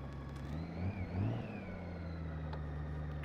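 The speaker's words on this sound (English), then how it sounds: "I'm gonna do it while I'm blipping through the throttle, standing in the friction zone." A motorcycle idles at low speed while the throttle is blipped twice in the friction zone, each blip a short rise in engine pitch over a steady close hum.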